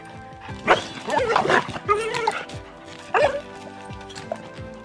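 A pit bull dog gives a few barks and yips mixed with whimpering, close by, with people talking in the background.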